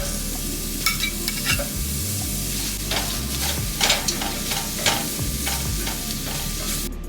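Onions and garlic fry in melted butter with a steady close sizzle, broken by repeated scrapes and clacks of a utensil stirring the pan; no one speaks.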